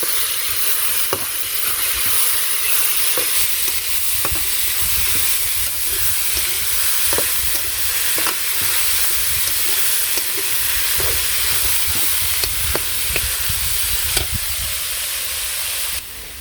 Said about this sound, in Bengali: তো এভাবে শাকটা ভাজি করে তারপর বেগুন ভাজি করবো